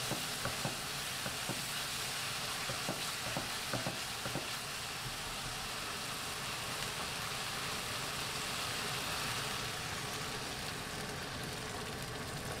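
Onions frying in a pan, giving a steady, soft broadband sizzle throughout, with a few faint stirring clicks early on and no talk.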